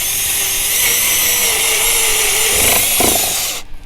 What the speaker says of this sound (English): and then I'm going to drill straight through following the U-bracket.